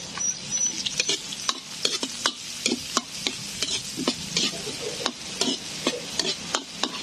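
Garlic sautéing in a hot pan for chicken tinola, a continuous sizzle broken by frequent sharp scraping and stirring knocks of a utensil against the pan, close and busy.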